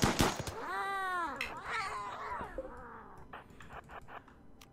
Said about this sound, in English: are they just gonna bash the cat to death?